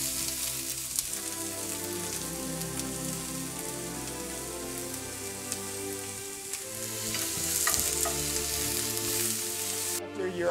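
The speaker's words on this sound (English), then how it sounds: "in a pan, you're gonna put 2 tablespoons of oil and then just saute your onions" Onions sauteing in two tablespoons of oil in a pan give a steady, close, even sizzle and crackle throughout, with faint occasional stirring clinks and no talking.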